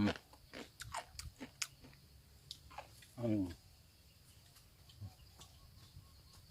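Crunchy bites and chewing of pickled mango, several sharp crunches close to the mic, with faint birdsong and soft speech around them.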